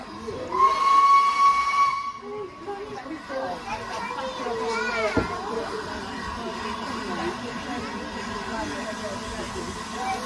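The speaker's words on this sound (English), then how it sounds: "This isn't my first steam train, but it is my first proper big steam train." The Flying Scotsman steam locomotive's whistle shrills for a couple of seconds over children's voices, then steady steam hissing and chuffing carry on beneath chatter as the train pulls away.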